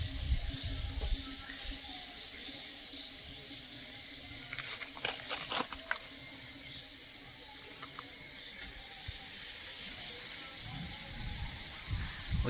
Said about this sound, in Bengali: খুব ঝড় শুরু হয়ে যাচ্ছে আস্তে আস্তে।